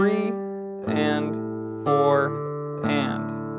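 Fingerpicked acoustic guitar notes played without the thumb on beats three and four of a pattern, four evenly spaced plucked attacks ringing cleanly and close in a steady rhythm.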